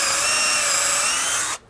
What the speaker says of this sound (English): then you just come down and drill between each set of holes